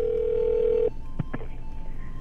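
A telephone line connecting for a call-in radio broadcast: a steady dial tone cuts off, followed by a couple of short clicks as the line opens, close and clear with no speech.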